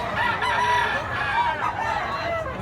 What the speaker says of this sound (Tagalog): Manok ni Boss Efren, gulang.